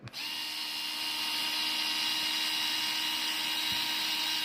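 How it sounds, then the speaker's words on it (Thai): A Bosch GO 3 cordless electric screwdriver spins up with a quick click and then runs at a steady high-pitched motor whine, close and constant, with a faint tap near the end. "เขาคือไขควงไฟฟ้านะครับ ไม่ใช่สว่าน"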